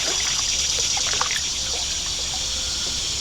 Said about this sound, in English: Let's just paddle up here a little bit.